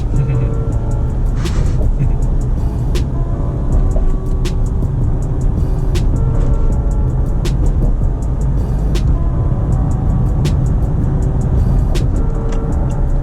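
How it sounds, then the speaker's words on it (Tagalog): A sports car drives on a Manila road, heard from inside as a steady loud engine and road roar with a faint rhythmic ticking running through it. "Driving like a sports car."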